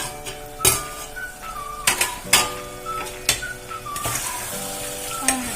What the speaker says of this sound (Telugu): ఒక 2 నిమిషాలు ఈ టమాటాలు మగ్గే వరకు మూత పెట్టుకోవాలి.